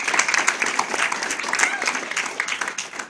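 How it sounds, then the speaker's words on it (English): An audience gives a round of applause for a woman named Melissa, a loud, continuous burst of many hands clapping at close range, crackling evenly with no talk over it. "Let's give her a round of applause"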